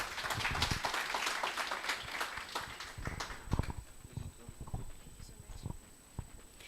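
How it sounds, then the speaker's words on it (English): Audience clapping at an entrepreneurial resilience workshop in Atteridgeville, a dense, steady round of applause lasting several seconds and slowly thinning toward the end, with no talk over it. "Let's give him a round of applause."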